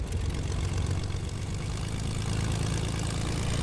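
An airplane engine drones in a video game, a loud, steady rumbling propeller hum with broadband noise that holds constant throughout, no voices heard.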